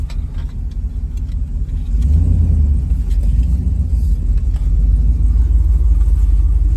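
An old, long-abandoned Chevrolet Suburban with no working brakes idles steadily, a low continuous rumble that swells slightly louder after a couple of seconds and holds, with no one speaking.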